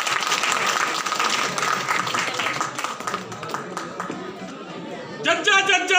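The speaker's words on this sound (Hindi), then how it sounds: "जोरदार तालियों से स्वागत करिए।" Loud crowd applause welcoming a speaker at a political rally in Bodh Gaya, Bihar. The clapping is dense at first, thins out with chatter, then shifts into rhythmic chanting near the end.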